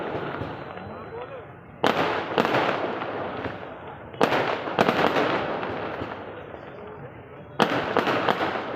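Fireworks burst at a night Karni Mata jagran religious gathering, with several sharp, loud cracks and crackling pops over a continuous wash of crowd noise and an amplified voice speaking.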